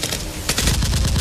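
Rapid bursts of gunfire sound effects in a toy Nerf gun action scene, a fast rattling string of sharp shots like a machine gun, fairly loud and alone.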